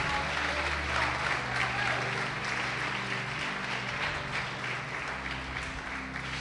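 A church congregation breaks into sustained applause in praise of God during a sermon on spiritual gifts, a continuous wash of clapping from many hands blending with murmuring voices throughout.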